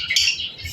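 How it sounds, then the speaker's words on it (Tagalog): A zebra finch gives a short, bright squawking call, close and loud, a single burst lasting under a second. "Zebra finches."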